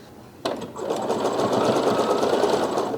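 A sewing machine fitted with an even feed foot hems jersey fabric, starting abruptly and then running in a steady, rapid mechanical whirr with a fast stitching rhythm, close and loud.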